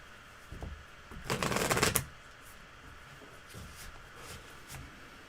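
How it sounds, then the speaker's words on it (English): A quick riffle of playing cards being shuffled, a single crisp burst of flapping clicks, then quiet with a few faint taps. "Am I shuffling first this time?"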